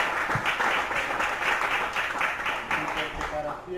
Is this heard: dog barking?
no